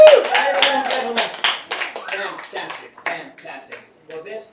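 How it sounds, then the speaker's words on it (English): Audience applause at a live magic show, a lively burst of clapping with a cheer at the start that gradually thins to scattered claps. "And a round of applause, please, for Andrea."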